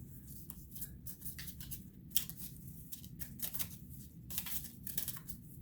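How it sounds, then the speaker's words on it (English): Close, crisp riffling and sliding of tarot cards being shuffled, quick papery bursts repeating in uneven clusters, fairly quiet with no voices. "I'm going to shuffle these."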